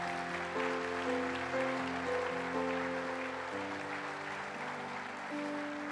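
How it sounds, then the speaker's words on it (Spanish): A church congregation claps along through a Spanish-language worship service, steady mid-level applause sitting under sustained music or singing tones. "Dale un aplauso al Señor."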